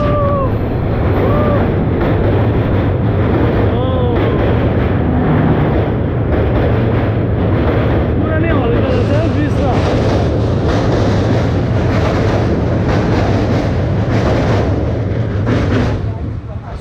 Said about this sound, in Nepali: अगाडिबाट ट्रेन आउँदैछ